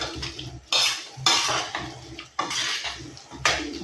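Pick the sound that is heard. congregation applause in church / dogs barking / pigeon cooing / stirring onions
stirring onions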